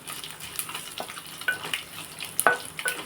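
Spices are tempered in hot oil for a bitter gourd rasam made with tamarind. The oil gives a crackling, popping sizzle with scattered sharp spits, fairly close, and no one talks.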